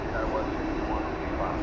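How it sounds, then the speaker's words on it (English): Jet airliner engines rumble at DFW Airport as the aircraft turns at an angle, a steady, muted broadband roar with people talking over it. "the engine sounds are quite muted compared to when we're directly in front of it"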